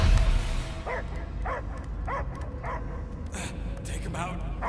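A dog in the video game Guardians of the Galaxy gives a few short, separate barks and yips at a steady pace, under a low rumbling game background.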